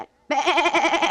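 After a brief silence, a voice lets out a short, wavering bleat, imitating a sheep.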